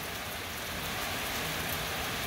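Steady, dense rainfall on surfaces, an unbroken close hiss with no pauses.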